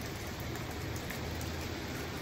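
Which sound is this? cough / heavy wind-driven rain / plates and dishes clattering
heavy wind-driven rain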